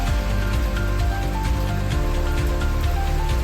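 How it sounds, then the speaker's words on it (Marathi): Steady rain falls in a dense, even hiss of drops striking surfaces nearby, with no break or talk throughout. "पाऊसच चालू झाला."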